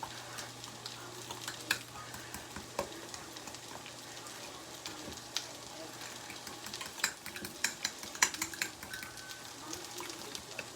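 Broccoli sautéing in a pan gives a soft, continuous sizzle under repeated clicking, scraping stirs of a utensil against the pan, fairly quiet and close.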